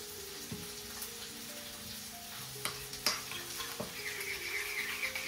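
Burger patty ingredients with lemon juice and salt are mixed together, giving quiet, wet squelching and stirring noises broken by a few sharp clicks and taps.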